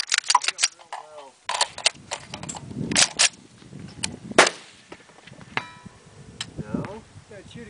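Sharp, cracking reports from a suppressed LWRC REPR rifle in 7.62 fired outdoors, a few loud bursts spread across several seconds with people talking between them.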